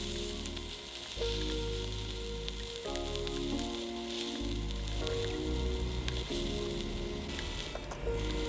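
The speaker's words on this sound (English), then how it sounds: "flip them over on all sides so you can get a nice sear, a nice brown sear on all sides" Beef short ribs sear in hot oil in a pan, ahead of a red wine braise. A loud, steady, close sizzle runs the whole time with faint shifting crackles and no talking.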